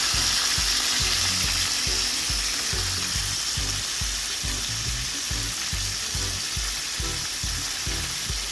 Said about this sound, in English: while the chicken is frying, I'm going to prepare the sauce.